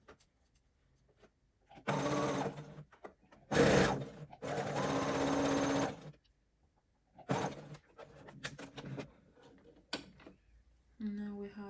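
A sewing machine stitches fabric while a skirt is sewn, running in several short bursts of mechanical whirring separated by quiet pauses, with a few faint handling sounds in between.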